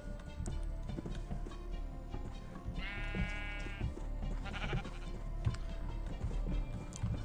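Sheep bleating in the TerraFirmaCraft Minecraft game: two short wavering bleats a second or so apart, set against a steady busy game background with hoof-like clopping.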